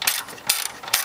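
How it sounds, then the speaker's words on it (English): A ratchet backing out a 12 mm top bolt on a hood mount, three quick bursts of metallic clicking up close. "remove the top bolt of your hood mount. This will be a 12 millimeter."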